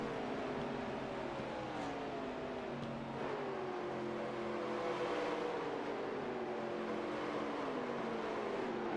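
Next Gen race cars on the oval at Atlanta: a continuous engine drone with wavering, slowly falling pitch lines as several cars run past, steady and fairly loud, with no talk.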